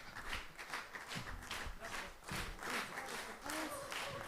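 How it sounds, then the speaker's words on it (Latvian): Audience applause at a children's patriotic concert in Latvia, dense continuous clapping from a crowd, fairly distant and even, with scattered louder claps. "Aplausi un paldies Rihardam."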